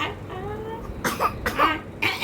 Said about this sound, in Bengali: এটা কি কাশি হচ্ছে